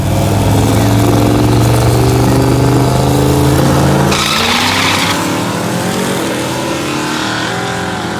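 A drag racing truck launches with a loud engine roar and spinning tires, the pitch climbing steadily before a sharp change near the middle as the tire noise shifts and the run continues at close range.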